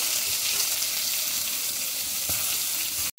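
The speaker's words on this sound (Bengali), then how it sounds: "বাঁধাকপিটাকে হালকা করে আমি ভেজে নেব" Steady, close sizzle of cabbage frying in oil in a wok, with a bright hissing crackle, continuous throughout, with a brief dropout near the end.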